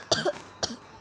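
Two short close-up coughs from a gamer playing an online video game, a quick double cough followed by a single softer one, heard alone at close range.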